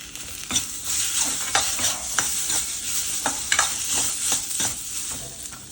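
Chopped tomato fries in a pan over low heat and is stirred, a loud, close, continuous sizzle with regular scraping strokes of a spoon, with no voices.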